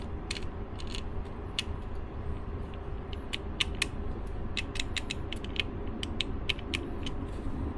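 Small scattered clicks and creaks come from a part being undone on an AEG compressor pressure switch. The irregular mechanical ticks sit close over a low steady background hum, with no talking.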